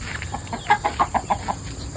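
Chickens in a pen cluck in a quick run of short, sharp calls, several in a row close by, over low background noise with no talking.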